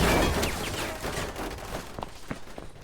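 Gunfire in the video game Resident Evil 6, a loud opening burst of shots that fades into scattered sharper cracks and impacts over the next couple of seconds, without talk.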